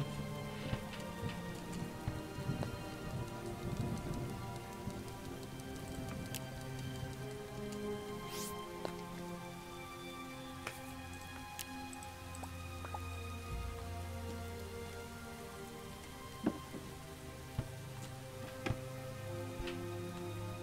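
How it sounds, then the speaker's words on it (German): Rain falls steadily in the Starbound video game, a soft continuous patter of drops on surfaces with scattered clearer drips and ticks, joined by faint melodic game tones over about twenty seconds. "Nein, es regnet."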